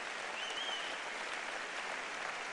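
A political rally crowd applauds for public radio and television workers, a steady, even wash of clapping that fills the whole moment without breaks.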